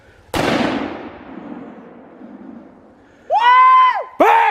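A rifle shot during a deer hunt: one loud, sharp outdoor crack with a long rolling echo, then a loud harmonic whoop or shout and a second voice.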